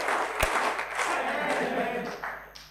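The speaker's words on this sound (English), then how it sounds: "I request everyone to clap with me thrice and shout 10 as loud as you can." A reunion crowd of IIT Kanpur's class of 2010 claps together, a loud sharp clap up front followed by a broad roar of clapping and shouting that swells, then tapers off near the end.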